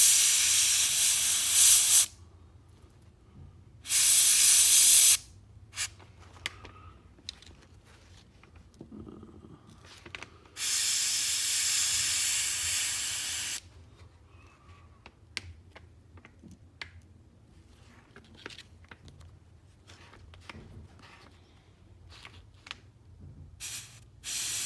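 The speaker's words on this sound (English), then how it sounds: "So when you're spraying, you're gonna spray half on the stencil and half on the actual bait." An airbrush sprays paint over a stencil onto a crankbait fishing lure in several loud hissing bursts of a few seconds each, separated by quiet gaps filled with small clicks and handling noises.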